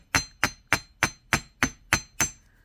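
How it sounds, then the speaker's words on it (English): A nylon jaw hammer strikes metal eight times in a steady rhythm, each blow a sharp, close, ringing smack with no talk. "Get our nylon jaw hammer out."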